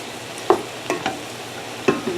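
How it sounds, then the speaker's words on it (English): Vegetables stir frying in a small amount of oil, a low steady sizzle punctuated by four sharp scrapes or stirs of the pan, close and without talk. "you're almost stir frying the vegetables right now"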